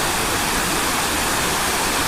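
Clear river water flowing steadily near a resort in Naga City, Philippines, a dense, continuous rushing wash that stays even and close for the whole stretch, with no voices.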